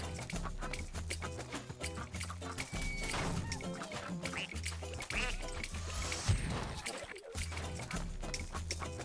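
Quacking ducks in a video game sound repeatedly over busy game music and effects, dense and continuous with a voice talking at times.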